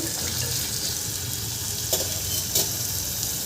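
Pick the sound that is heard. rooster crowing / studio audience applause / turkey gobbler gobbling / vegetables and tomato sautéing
vegetables and tomato sautéing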